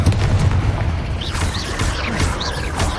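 Confringo fire spell blasts in Hogwarts Legacy, a dense booming rumble with bursts of crackling impact across three seconds.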